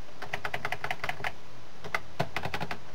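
Quick bursts of keystrokes on a computer keyboard, close and crisp, come in two rapid clusters separated by a short pause.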